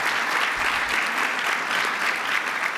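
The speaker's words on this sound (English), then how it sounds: "please let's give another round of applause." Audience applause for the speakers at a 2015 keynote event, a full, even roar of many hands clapping continuously with no break.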